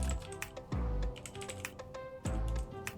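Typing on a computer keyboard while entering a film style into an AI 3D animation tool: a quick run of crisp, close key clicks with brief thumps, pausing partway and then resuming.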